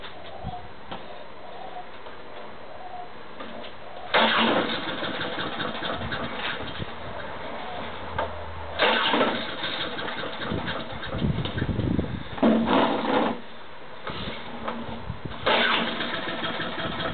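A petrol lawn mower engine being started cranks in several separate bursts, loud and close, each pull catching and dying before the next, with no voices.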